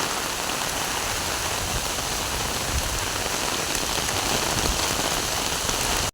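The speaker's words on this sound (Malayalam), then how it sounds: "ഇതാ പൊരി മഴയത്ത് ഇതാ ജയശേട്ടൻ ഇവിടുന്ന് വല സെറ്റാക്കുന്നേ" Heavy downpour falling steadily while crabbing nets are set near a beach, a dense, loud, unbroken hiss of rain hitting surfaces throughout.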